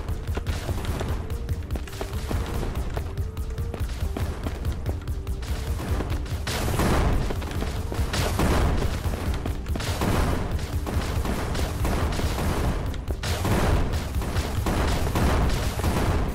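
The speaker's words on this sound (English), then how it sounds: "Got a lot of explosions, though." Dense, continuous booming explosions and rapid gunfire from the tower defense video game Crystal Defense, loud and relentless with a faint tonal music line underneath, no talk.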